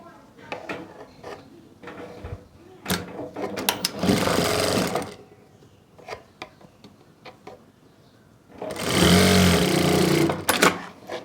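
A sewing machine stitches a shoulder seam on a sleeveless cord set in two loud, close bursts, the second longer, separated by fabric handling, clicks and a few quiet voice sounds.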